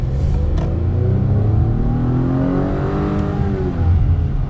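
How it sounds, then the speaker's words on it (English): A 2.0-liter four-cylinder Acura TLX A-Spec engine revs up and accelerates, a rising throaty roar with climbing harmonics, loud and close throughout with no talking. "Get another acceleration here."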